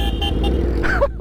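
A vehicle horn honks in a couple of short toots near the end, over engine and road noise.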